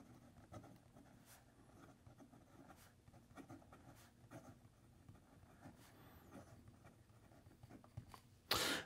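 A Narwhal Voyage fountain pen writes a sample on paper, producing faint, close scratching strokes in an irregular rhythm over a quiet background.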